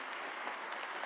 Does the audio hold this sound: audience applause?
yes